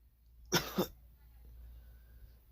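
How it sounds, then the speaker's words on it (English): A woman coughs up blood, two harsh, wet coughs in quick succession, close and loud against a quiet background. "as she would cough up blood"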